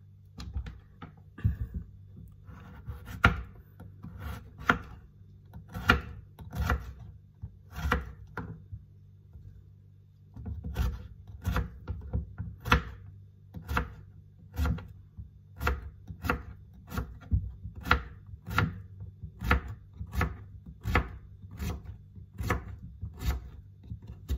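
A kitchen knife chops bottle gourd (upo) and squid on a cutting board in steady, close, rhythmic thuds. The pace quickens in the second half, with a low hum beneath and no talking.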